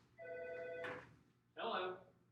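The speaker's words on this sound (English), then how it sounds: "right in the middle of recording something, I've got to answer the phone" A telephone rings during a classroom lecture, giving a steady tonal ring followed by a second short burst a moment later, fairly close and clear over the room's background.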